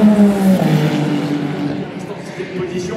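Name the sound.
Ferrari race car passing at Le Mans 24 Hours Hyperpole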